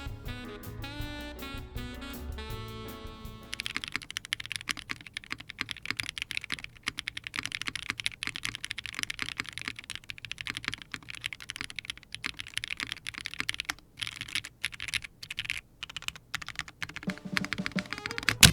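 Rapid, clacky keystrokes on a Hira 70 TKL mechanical keyboard with an aluminium plate, Snowflox linear switches, GMK Shoko keycaps and no foam; steady typing with bright sharp clicks, close up and alone after a short musical intro.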